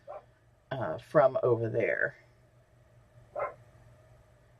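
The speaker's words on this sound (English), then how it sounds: "sorry if you hear a little bit of barking in the background" A speaker's two pet dogs barking in the background at home, a short burst partly overlapping brief speech, followed by a faint later yelp.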